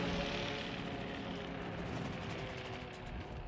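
Aircraft fly overhead in the naval battle game World of Warships, heard as a steady, dense engine roar that holds throughout at moderate loudness, with no voices.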